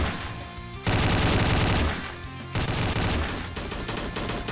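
Bursts of gunfire from the video game Slendytubbies 3, with two loud volleys of rapid shots separated by a short gap, all clear and close with no talk.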